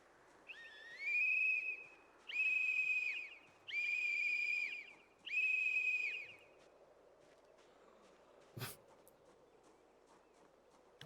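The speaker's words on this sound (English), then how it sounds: "I love the whistle." Four long, evenly spaced whistle blasts ring out in the video game Project Zomboid, each clear and sustained, followed by quiet ambience and a single sharp thump.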